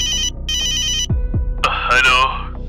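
In a Hindi cartoon story, a telephone bell rings in two loud trilling bursts, followed by low thuds and then a bright musical flourish that rises over it.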